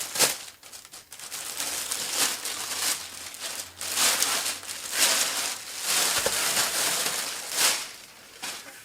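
A plastic bag crinkles and rustles close by in irregular bursts of crackling handling noise, with no talking, as a Technics SL-1200GR turntable lid is unpacked.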